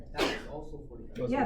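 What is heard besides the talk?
sneeze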